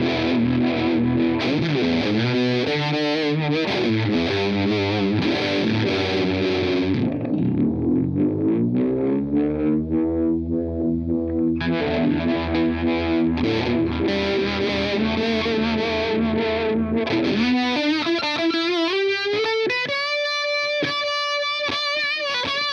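Electric guitar played through Uni-vibe and fuzz pedals together, thick swirling distorted chords and sustained notes with pulsing modulation, ending in a bright ringing melodic run.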